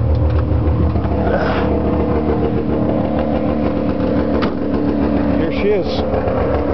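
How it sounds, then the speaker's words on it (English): Small air-cooled two-cylinder two-stroke engine of a 1969-70 Subaru 360 truck with a holed muffler, droning loud and steady up close through a test drive while someone speaks briefly over it. "It's a little loud because it's got a hole in the muffler"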